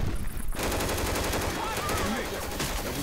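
Gunfire in Left 4 Dead 2, a dense steady burst of rapid shots filling the whole stretch with a low rumbling layer, loud and continuous, with a brief quieter gap near the start and faint game noise mixed in.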